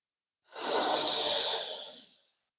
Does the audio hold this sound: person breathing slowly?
yes